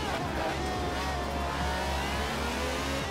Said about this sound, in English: I picked a noisy car class to do this intro.